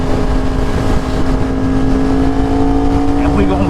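A Yamaha R1 sport motorcycle idles steadily on a chilly Houston morning before a ride, its engine producing a loud, constant, humming drone with a slight rise in pitch toward the end.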